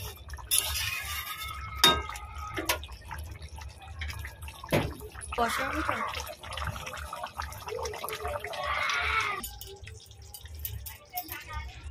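Chicken curry (chicken kosha) simmers in a pot, giving soft, uneven bubbling and dripping, wet pops. A few sharper clinks stand out against a quiet background throughout.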